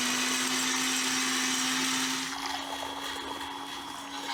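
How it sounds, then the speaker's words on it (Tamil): Kitchen mixer grinder whirring as it grinds ingredients for biryani, a loud steady motor drone with a droning hum that drops slightly in pitch and loudness partway through, with no voices. "நல்லா அரைச்சிடலாம்"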